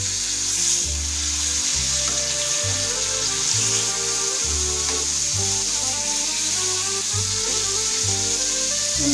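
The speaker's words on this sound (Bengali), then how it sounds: "এবার আমি লাল করে ভেজে নেব। এবার আমি মাছটা উল্টিয়ে দিচ্ছি," Katla fish fries in mustard oil in a pan with a steady loud sizzle, while rhythmic low scraping and knocking from a spatula comes through up close.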